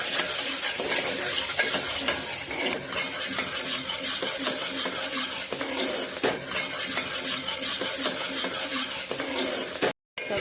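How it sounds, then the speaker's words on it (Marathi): Finely chopped onion frying in hot oil in a pan for a spicy Solapur-style mutton rassa, a steady close sizzle with stirring scrapes and utensil clinks throughout, no voices. "तेल घेतलेलं आहे तेल टाकून बारीक चिरलेला कांदा टाकून आपण मस्त असं घेणार आहे"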